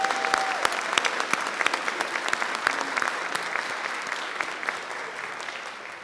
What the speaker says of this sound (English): please join me in a round of applause in recognition of these distinguished grad students